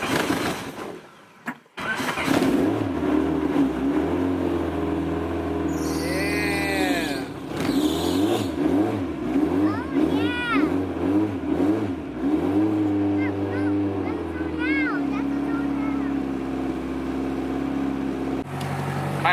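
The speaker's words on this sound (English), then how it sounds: "we gotta start the car" A car engine cranks and catches, then revs repeatedly in rising and falling surges before settling to idle, close and fairly loud, with people talking briefly in the background.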